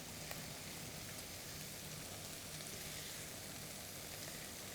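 Red wine reducing in a hot pan while deglazing cooking residues from cheek, a steady soft fizzing sizzle that carries on evenly and quietly throughout.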